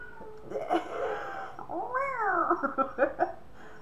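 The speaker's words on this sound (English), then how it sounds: "Hopefully without a cat screaming." A cat yowling up close in a long, wavering caterwaul that rises and bends in pitch, followed by a few shorter broken meows, with a quiet room behind it.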